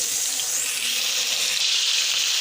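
Masala-coated fish frying in oil in a pan over full flame, heard as a continuous dense close sizzle with no talk.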